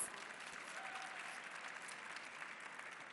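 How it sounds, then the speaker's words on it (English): Sustained audience applause for panelists at a TikTok content creators' forum, a dense, steady wash of clapping at moderate level throughout, with no speech over it. "So let's have a huge round of applause for our panelists."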